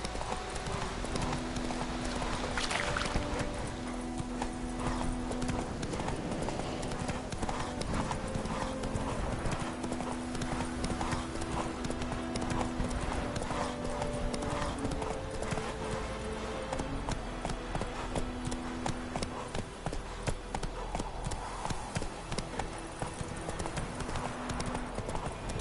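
Roach the horse galloping in The Witcher game, a rapid, steady clip-clop of hooves sustained throughout, loud and close over a faint musical score, with no voices.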